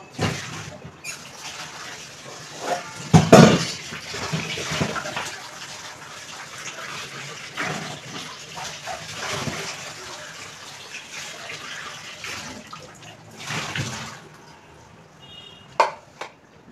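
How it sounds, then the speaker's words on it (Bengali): Potatoes being rinsed in a home kitchen, with running and splashing water that swells and fades over several seconds, a few clattering knocks of a pot or bowl and occasional louder gushes near the microphone. "চল আলুটা ধুয়ে নিই।"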